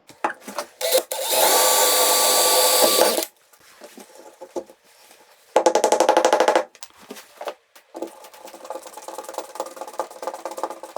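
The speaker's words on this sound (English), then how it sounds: "go get a drill, some screws, get this fixed to the wall" A power drill whirs in two loud sustained bursts into a wall, the first about two seconds long, the second shorter, separated by quieter clattering and handling noise.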